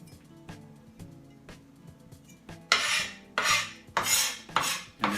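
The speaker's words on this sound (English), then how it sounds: "And there you have perfectly chopped garlic." Garlic being chopped with a chef's knife on a cutting board, starting with soft scattered taps and rising into five loud, rasping knife strokes near the end, close and with no talking.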